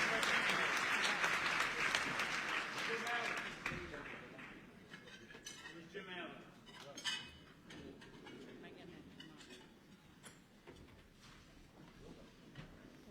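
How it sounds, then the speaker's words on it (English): A banquet crowd at an annual justice fundraiser gives a full round of applause that fades after a few seconds, followed by scattered claps, clinking dishes and cutlery, and murmured talk in the room. "if we could have one more round of applause for each of these incredible leaders"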